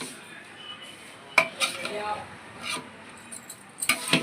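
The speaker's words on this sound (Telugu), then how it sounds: "తను ఒక చేతి కట్టలేకపోతున్నారు రెండు చేతి పెట్టేసి బాగా కలుపుతున్నారు" Ugg ani, a Rayalaseema dish of puffed rice, is mixed by hand in a metal pot, giving scattered scrapes and clinks of rice and metal, with soft background murmur and a few sharper knocks.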